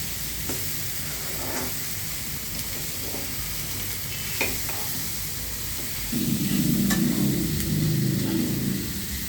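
Cauliflower pieces fry in a pan with a steady low sizzle and scattered stirring taps. A louder rumbling hiss rises partway through and carries on to the end.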